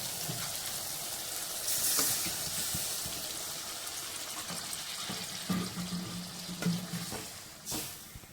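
Water is poured into a pan of frying brinjal and prawn curry, a steady hiss of sizzling and splashing liquid that runs throughout, with a few clanks and stirring sounds and no talk.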